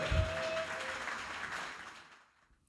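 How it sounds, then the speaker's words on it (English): Audience applause at a London 2023 Pan-Africanity tour event, a brief wash of clapping that fades out over a few seconds. "keep your round of applause going"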